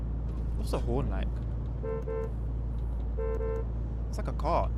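A truck horn in Euro Truck Simulator 2 honks twice in short sustained blasts, with someone talking over the steady engine drone before and after.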